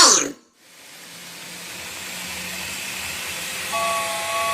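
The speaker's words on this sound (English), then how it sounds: "we'll see if the electric trains work" Electric toy trains running on a household layout, a steady rumbling hiss that builds gradually, with a low hum and a faint tonal whine entering near the end; no talk over it.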